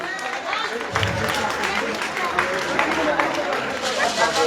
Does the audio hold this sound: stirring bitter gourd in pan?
no